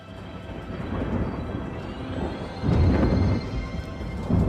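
Deep rumbling thunder rolls continuously, swelling into a louder crash near the middle before settling into a steady low roar.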